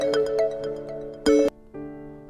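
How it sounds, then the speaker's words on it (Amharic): A mobile phone rings in an Ethiopian film scene with a melodic electronic ringtone that plays in bright repeating notes, breaks off briefly, then resumes, with no talking over it. "ስልክሽ ጭር እያለ ነው። አንሳው።"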